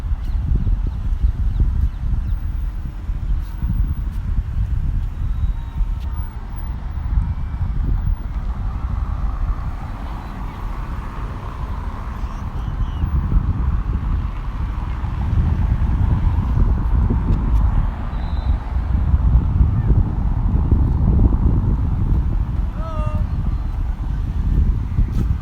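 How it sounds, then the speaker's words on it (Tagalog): Cars stream past on a busy road beside Jumeirah beach at sunset, a continuous low rumble of traffic with wind buffeting the microphone and swelling passes as vehicles go by close. "So, maingay po yung mga dumadaan na sasakyan, guys."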